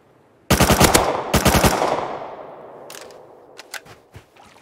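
Rapid bursts of automatic gunfire from the Rust video game, two dense volleys followed by scattered fainter shots trailing off, loud and with no talk.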